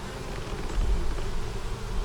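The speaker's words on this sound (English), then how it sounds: "Got bees on it too." Honey bees swarming around a frame of nectar, pollen and bee bread from a hive, a dense close buzzing drone that holds steady throughout, loud and continuous with no voices.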